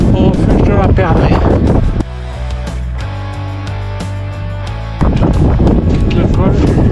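Strong wind roars and buffets the microphone on a snowy mountain pass near the Perdrix refuge in the Pyrenees, with loud gusts at the start and end around a calmer middle stretch.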